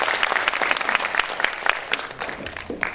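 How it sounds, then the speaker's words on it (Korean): A crowd at a political forum in the Jeonbuk Arts Center claps warmly, the applause close and lively with uneven bursts of hands rising and falling throughout, and no talk over it. "뜨거운 박수 부탁드립니다."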